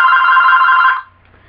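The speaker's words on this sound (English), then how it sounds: "Will the phone quit ringing?" A telephone bell rings loudly in one sustained burst for about a second, then cuts off abruptly, leaving near silence.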